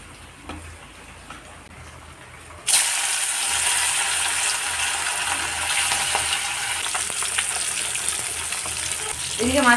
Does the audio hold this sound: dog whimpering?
no